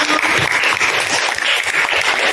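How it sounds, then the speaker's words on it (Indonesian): A class applauds in a school session, a dense, steady wash of clapping hands that carries on loudly for the whole stretch, with no pauses. "aplaus juga sekali lagi untuk kita semua"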